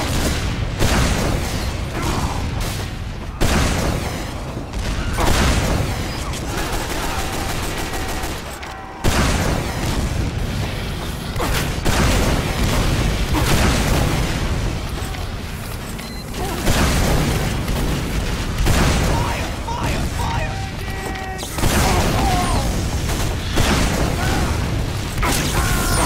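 Rapid booming rocket blasts and chaotic gunfire from a Team Fortress 2 match, dense and loud throughout with repeated bursts and clattering mechanical noise.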